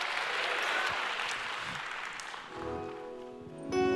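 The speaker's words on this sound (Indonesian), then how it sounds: "Bolehkah kita sambut firman Tuhan dengan tepuk tangan yang paling meriah?" A church audience applauds warmly during a sermon, a thick steady wash of clapping that fades as music begins near the end.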